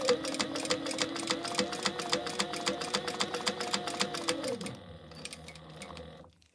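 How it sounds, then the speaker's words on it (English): A home sewing machine top stitches the edges of webbing on a cargo belt bag. It gives a steady, rapid mechanical clatter that runs loud for several seconds, then slows and softens as the stitching winds down. "we're gonna top stitch all edges"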